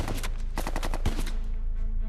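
Machine-gun fire at a castle during the last fighting of the war in Europe, a loud rapid burst of sharp shots followed by a single heavier report, then fading echo.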